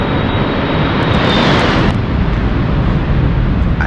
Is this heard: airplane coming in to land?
yes